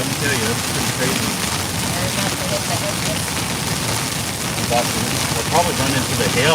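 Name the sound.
heavy rain during a storm chase in Texas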